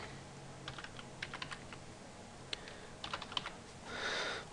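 Credit card details are typed on a computer keyboard, heard as quiet, irregular clusters of soft key clicks with short pauses between them and a faint, brief rustle near the end.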